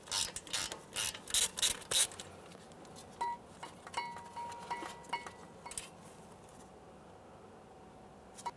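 Hand ratchet clicking as it works loose a 10 mm ABS wheel speed sensor mounting bolt on a 2015-2019 Subaru Outback, close bursts of quick clicks early, then lighter sparse ticks and metallic taps fading toward the end.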